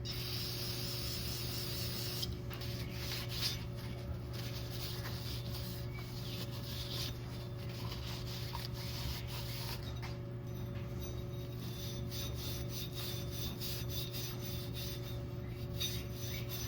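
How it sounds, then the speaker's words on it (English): A Scotch-Brite pad scrubs a dirty differential yoke from a 2018 Chevy Bolt, giving steady, continuous rasping friction that runs unbroken against a constant low background hum. "I'm probably going to scuff it with like a Scotch-Brite to make sure there's no like grooves in it"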